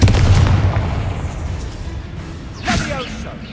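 A Confringo blasting spell explodes in Hogwarts Legacy with a heavy, booming blast that rolls off into a rumbling tail, and a second whooshing burst follows near the end. The spell name is called out over it.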